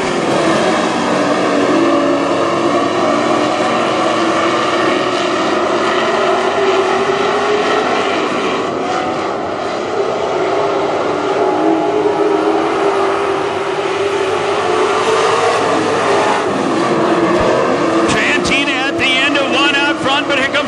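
WISSOTA Super Stock cars race around Granite City Speedway, a loud, continuous roar of engines that swells and fades slightly throughout.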